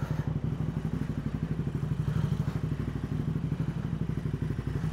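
A KTM 1290 Super Duke R motorcycle rumbles steadily while lane splitting, its engine pulsing in an even throbbing rhythm with wind and road noise, heard close and continuous.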